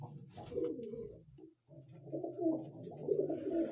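Soft, low cooing of homing pigeons repeating in rolling phrases, close by, with a short pause midway.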